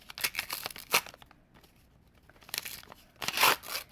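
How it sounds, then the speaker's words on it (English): A block of Chalkness Monster gym chalk is crunched and crumbled up close, in two bursts of crisp crackling and crumbling with a short quiet pause between them. "I hear it's super crunchy, so I'll just get into this."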